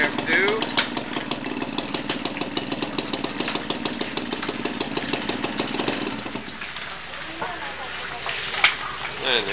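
A motorcycle engine runs steadily with a rattling, pulsing drone, then eases off partway through; voices and street noise mix in around it.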